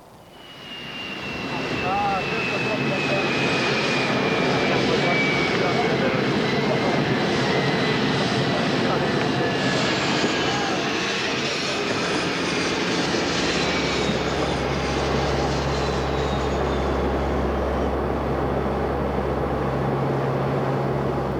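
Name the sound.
airplane engine during flight arriving in Sarajevo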